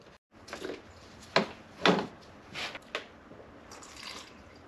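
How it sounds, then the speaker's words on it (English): Coolant being poured into the filler neck of a BMW X5 4.8i E70 with an N62 engine, faint gurgling splashes in a few short bursts, close and quiet. "The instructions say fill it to the top of the filler neck, and I am doing just that."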